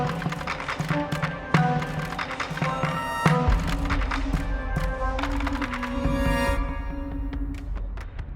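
Orchestral combat music for a video game boss fight shifts through a transition into its second combat loop, dense sustained layers punctuated by sharp percussive hits and a deep low swell, loud and continuous throughout.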